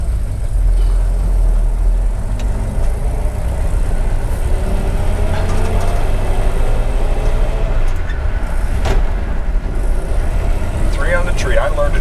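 A 1951 Ford F-1 pickup truck with a three-on-the-tree column shift drives along, its engine a steady loud low rumble heard from inside the cab with constant road noise and no break.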